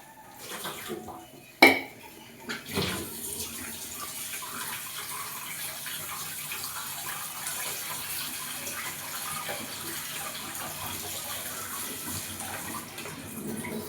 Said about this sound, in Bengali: একটু ঠান্ডা জল দিয়ে ম্যাগিটা ধুয়ে নিলাম